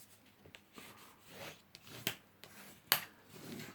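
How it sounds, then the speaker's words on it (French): Card paper is folded into an accordion fold: quiet, close rubbing and creasing with soft rustles and a couple of sharper crisp snaps as the folds are pressed flat. "on va faire un pli un peu accordéon"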